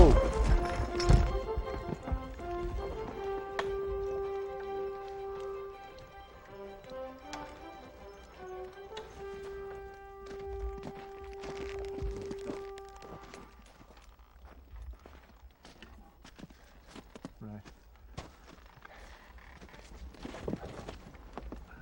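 Horses' hooves clip-clop at a steady walking rhythm on a road while a carriage moves along, with a voice calling out over the start and the hoofbeats continuing beneath.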